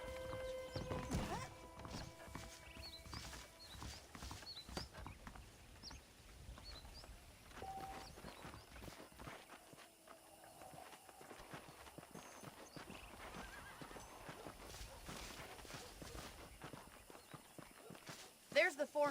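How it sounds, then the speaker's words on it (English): Horses in Red Dead Redemption, a western video game, neigh and clip-clop over a game soundscape, with a whinny standing out and hooves tapping along. A voice talks over them, and birds chirp faintly. "The horses are saddled up over here."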